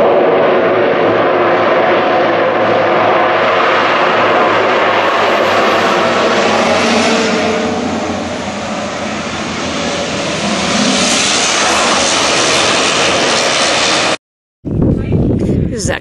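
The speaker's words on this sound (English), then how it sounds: "Here it comes. Perfect landing." A small propeller airplane touches down on a mountain airstrip in the Himalayas on the way to Mera Peak, its engine roaring loud and close for most of the time, easing briefly mid-way, then cutting off before a burst of wind noise.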